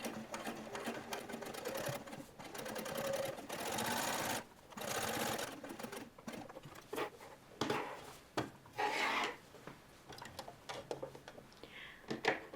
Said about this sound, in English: So I'm now stitching up and around the lapels.